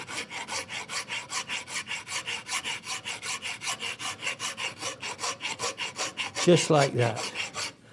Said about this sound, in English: So I'm using the round side of my rasp in here